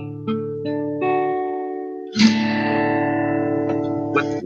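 A guitar plucked with effects, single notes ringing out one after another with long sustain and echo, then a brighter strummed chord that swells and rings on.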